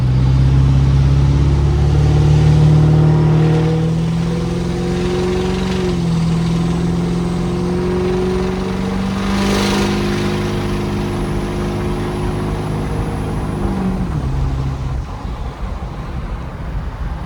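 A 6.0 Powerstroke diesel engine idles with a deep, steady rumble through a loud 4-inch straight-pipe exhaust with a 7-inch tip, pitch dipping slightly midway, close and continuous with no talking.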